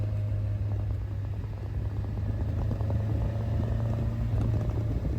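A classic MGB British sports car engine drones steadily while driving, a low continuous hum with road rumble throughout and no talking.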